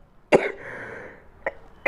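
A single sharp cough from a man with a cold, followed by a faint lingering breathy tone and another brief throat sound near the end, close and isolated with no talk.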